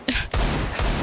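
Gunfire in Counter-Strike 2, with two loud, sharp shots a fraction of a second apart, each followed by a short booming tail, close and alone.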